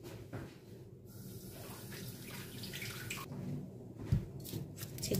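Water sloshes and trickles as rice is rinsed in a bowl for fried rice. The sound is soft and close, with irregular swishes and small splashes.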